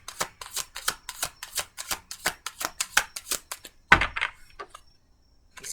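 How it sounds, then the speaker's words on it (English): A deck of oversized tarot cards is riffled and shuffled in quick, crisp bursts of flapping card edges, close and fairly loud, ending in a sharper clack and a few scattered taps before going quiet. "I can't even shuffle this whole deck"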